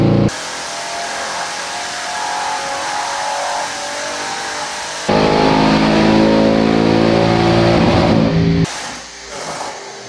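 Audi RS6 GT3 engine on a dyno revving hard and loud in a sustained roar, stepping up to a heavier, deeper pitch partway through before dropping off to a lower rumble at the end.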